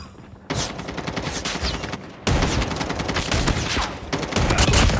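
A hostile sentry gun rattles off rapid automatic fire in Call of Duty Mobile, loud and close, in sustained bursts with a short pause between them and no talking over it.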